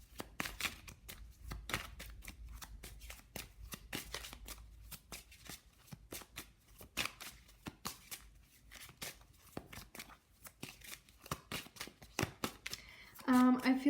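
Witch's Wisdom oracle cards are shuffled by hand in a rapid, continuous riffle of crisp papery slaps and flutters, close and fairly loud, over roughly fourteen seconds.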